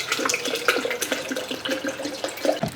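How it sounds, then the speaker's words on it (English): A household tap runs into a water bottle at close range, giving a steady splashing, trickling flow with small gurgles that lasts the whole short stretch without any voices. "Let's fill up my water bottle."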